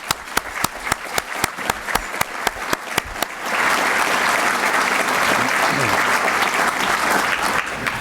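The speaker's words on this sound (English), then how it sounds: "I'd like to ask that we give another round of applause to all of the awardees of this year." An audience applauds awardees at a mayor's State of the City luncheon. Separate loud claps open the clip, then the applause swells into dense, steady clapping that fills the room and holds to the end.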